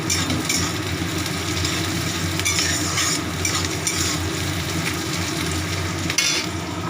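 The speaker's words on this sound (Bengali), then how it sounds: "পেঁয়াজ ভাজা হচ্ছে" Onions frying in a pan make a continuous close sizzle with crackling and occasional stirring scrapes, alone throughout.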